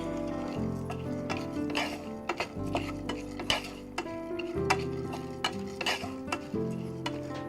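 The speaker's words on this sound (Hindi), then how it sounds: "तरबूज के बीज, पहले इन्हें भून लेंगे हम।" Watermelon seeds dry roast in a pan and are stirred, giving repeated close scraping and light ticking clinks against the metal under a faint tonal background, with no voices.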